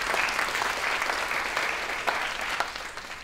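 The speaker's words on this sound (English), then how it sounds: "let's give a round of applause for those three." An audience at a library arts forum applauds, a steady wash of clapping hands that holds for several seconds and then starts to thin out.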